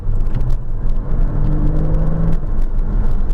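A Porsche Cayman S cruises in traffic, its engine giving a steady low rumble and whir with road noise inside the cabin, loud and constant with no talking.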